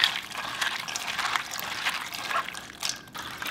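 Water poured and swished while rinsing soybeans for soy milk, an irregular close trickling and splashing with small bursts, moderately quiet.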